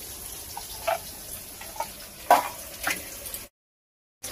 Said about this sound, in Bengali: তো ভালো করে এবার পেঁয়াজ আর আলু সুন্দর করে ভেজে নেব।